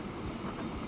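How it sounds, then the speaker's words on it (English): An ore train in Transport Fever 2 rumbles along the tracks in a low, steady roll, faint and continuous, with no voices. "yeah, there's our ore train"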